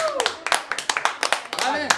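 Rhythmic hand clapping at a Turkmen wedding celebration in Istanbul, sharp claps in a steady beat over singing and talking voices, close and fairly loud.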